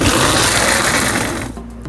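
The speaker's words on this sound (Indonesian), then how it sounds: "Kemudian blender semua bumbu. Saya akan memblendernya kasar saja." Blender coarsely grinding garlic, red bird's-eye chili and spices: loud continuous whirring motor that winds down and cuts off near the end, leaving faint clatter.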